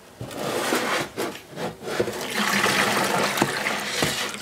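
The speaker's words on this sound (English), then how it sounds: "Let's pour the whole thing away." Dirty water from the tank of a Vax Rapide Ultra 2 W90-RU-P carpet washer is poured away in one continuous, close, rushing splash that rises and falls in surges with no talk over it.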